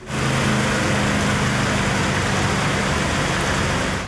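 Pouring rain in Tiruppattur, Sivaganga district, Tamil Nadu, falls as a steady, dense hiss that fills the whole clip at close range, with a low engine-like rumble underneath and no voices.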